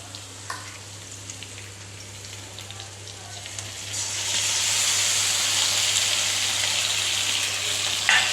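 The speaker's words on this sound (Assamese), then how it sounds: "এতিয়া মই দিম ইয়াতে মাংসখিনি, মেৰিনেট কৰি থোৱা মাংসখিনি দিম মই ইয়াতে।" Marinated duck meat goes into a pan of reddened frying onions, and a quiet hiss swells after a few seconds into a loud, steady sizzle under a low electrical hum, with a couple of clinks.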